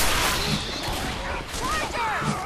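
Steady, busy gunfire rattles through a Left 4 Dead 2 firefight against zombies, a dense wash of shots with faint voices and game sounds underneath.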